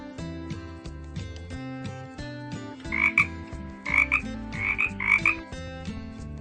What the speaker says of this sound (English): A frog makes that sound.